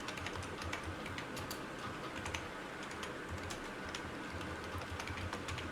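Someone types a line of JavaScript on a computer keyboard: quick, light, irregular key clicks close to the microphone over a soft room hiss.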